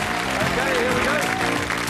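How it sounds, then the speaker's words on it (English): Studio audience on the Strike It Lucky game show giving a round of applause, dense steady clapping throughout, with a voice speaking over it. "Let's give them all a nice round of applause."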